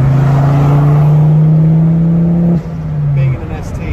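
A modified Ford Focus ST engine hums at a steady, loud idle-to-mid revving pitch from inside the car, dropping slightly after a couple of seconds and then settling, with no talk over it.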